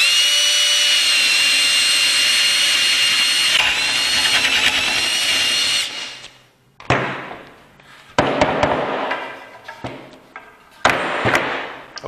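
Power drill boring through wood with a paddle bit, a loud steady whine for about six seconds, then several shorter bursts of drilling and rough cutting with brief pauses between them, close and alone.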